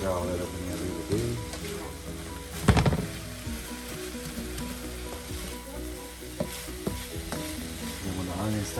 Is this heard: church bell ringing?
no